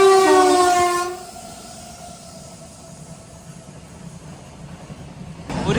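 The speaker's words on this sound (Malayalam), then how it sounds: "ഒരു ഗുഡ്സ് ട്രെയിൻ നല്ല പറപ്പിച്ച് പോകുന്നുണ്ട്." A goods train speeds past loudly, opening with a strong blast of its horn that cuts off after about a second, followed by a steady rumble and rattle of wagons.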